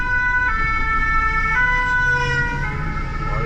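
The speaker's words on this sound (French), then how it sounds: "C'est les pompiers." A fire brigade vehicle's siren on a city street in Marseille, loud and close, with a steady wailing tone that shifts pitch several times over traffic rumble, no talking.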